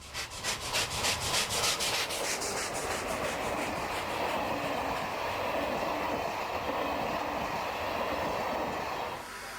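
Steam locomotive back at Le Creusot after turning on a track triangle, loud close rhythmic chuffing at first that blends into a broad continuous rumble and hiss of the moving engine and train.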